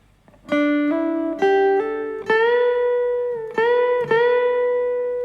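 An acoustic guitar plays the intro phrase of a song: several plucked notes and sliding bends ring out in a steady run, close and clear with no voices.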